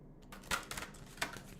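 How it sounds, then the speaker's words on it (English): Angels of Atlantis oracle cards being shuffled by hand, a few soft riffling and tapping bursts close by in a quiet room with no talking. "While I'm shuffling."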